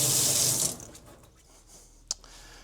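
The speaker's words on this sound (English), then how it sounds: "I think I'm just going to go wash my hands now and put gloves on" Tap water runs into a sink as hands are washed, a steady splashing rush that cuts off after under a second, leaving faint handling noises and a brief clink.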